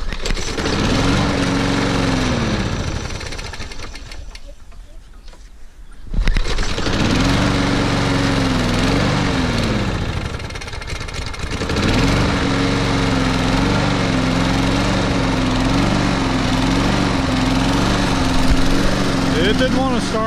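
Toro Super Recycler SR4 lawn mower engine idling after a cold start in snow, a loud steady close drone that dips briefly, surges back and settles into an even running hum.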